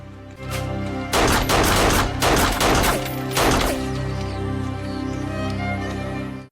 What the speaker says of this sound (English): the younger one loses all restraint and unleashes everything he has, wiping out the rest of David's soldiers